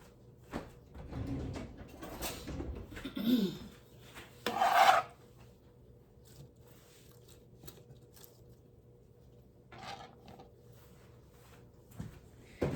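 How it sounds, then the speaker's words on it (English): A sharp knife slicing through a tomato on a cutting board, several short rasping cuts followed by quiet pauses, close and fairly soft with no one speaking. "And if you use a sharp knife, you don't have to use a serrated knife."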